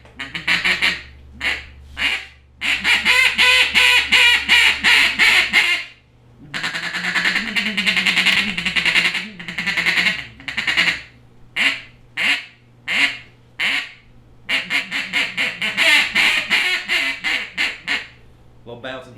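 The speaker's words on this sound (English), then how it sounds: "We'll start out with a little feed chatter." A 1909 Olt duck call blows rapid feed chatter, dense runs of quick quacking notes in long bursts broken by short pauses, loud and close with no talking.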